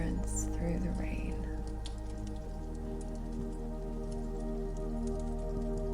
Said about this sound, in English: you can see the rain sliding down the panes